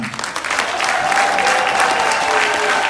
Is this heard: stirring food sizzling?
no